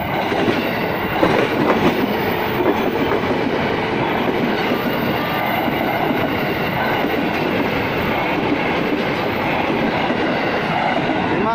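A KRL Commuter Line train roars past close by at Pondok Rajeg station, Indonesia, a dense steady rumble with clattering wheels over the rails that holds throughout; no speech.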